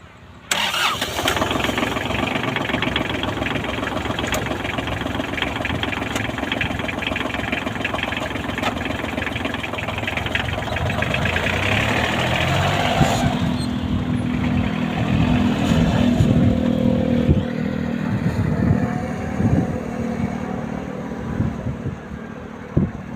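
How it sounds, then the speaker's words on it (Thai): A Kubota L1-255 tractor's 25-horsepower three-cylinder engine cranks and catches, then settles into a steady, rumbling idle that carries on loud and close, with a few clanks and rattles along the way. "ตัวนี้จะเป็นเครื่องยนต์ 3 สูบนะครั บ"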